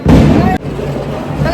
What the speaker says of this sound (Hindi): तो गाइस सब लोगों ने पटाखे फोड़ लिए,